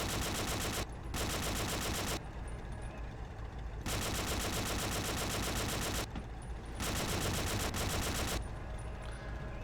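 Rapid automatic gunfire in the World War II shooter Forgotten Hope Secret Weapon, with loud sustained bursts of machine-gun fire lasting a second or two each, separated by short gaps of quieter distant battle noise.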